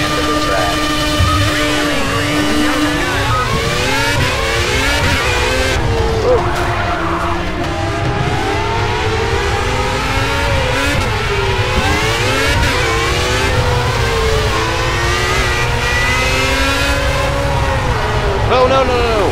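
Indy car engine screaming down a straightaway in the Project CARS racing game, a loud continuous high-revving whine with rising and falling pitch sweeps through gear changes, plus bursts of tire squeal, steady throughout.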